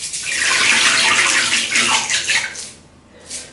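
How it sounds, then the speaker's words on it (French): A strong rush of tap water pours into a bathtub, loud and steady at first, then wavering and dropping away near the end before a short renewed splash. "je vais remettre en marche la baignoire"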